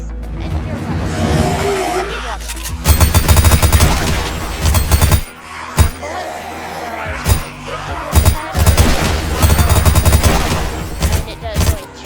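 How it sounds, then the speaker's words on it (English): Rapid gunfire from an exotic heisted run-and-gun SMG in a zombie tycoon video game: several loud bursts of shots in clusters, with brief pauses between them. "This is where you find the exotic heisted run and gun SMG"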